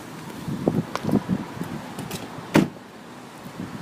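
Rear door of an Audi A6 wagon, with a few light latch clicks and handling knocks, then a firm single thud as the door shuts, close by and fairly quiet.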